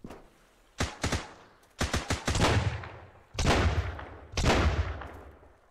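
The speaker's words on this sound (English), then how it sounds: "I think these guys are trying to shoot me through the floor." Enemy gunfire in the survival game Sunkenland: short bursts of automatic shots, a pair of quick cracks then longer rattling volleys, loud and close with no talk.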